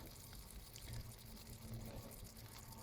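Water drains steadily out of a cozy cabin's plumbing as the house is emptied, a continuous low pouring and trickling rush with no break.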